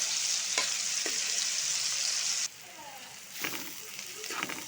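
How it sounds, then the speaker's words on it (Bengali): Onions sizzle in a pan for prawn bhuna, a loud steady hiss that drops suddenly, then picks up again with faint stirring scrapes. "এই যে পেঁয়াজটা ভাজা হচ্ছে"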